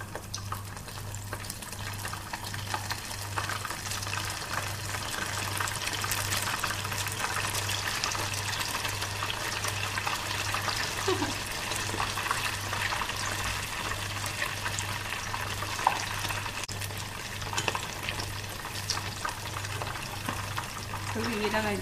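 Shrimp deep-fried a second time for a shrimp tempura rice bowl, giving a steady, dense sizzle and bubbling of hot oil that carries on without a break, with a low hum underneath.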